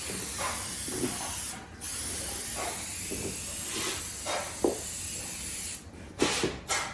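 A steady, close hiss of a spray can releasing adhesive onto a Trim-Tex drywall corner bead, with a few short breaks and some light handling noises.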